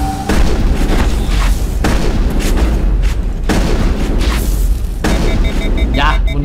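Weapon fire and explosions in the video game Mass Effect: repeated heavy booms and sharp blasts strike at intervals over a rumbling low backdrop, loud and close, with faint spoken commentary underneath.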